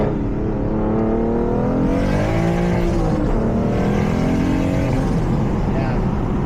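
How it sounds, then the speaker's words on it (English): A single-turbo BMW F80 M3 revs hard from inside the car, its loud engine tone rising and falling steadily while the wastegate's brief release blends into the turbo and exhaust roar. "You hear the wastegate open a little bit."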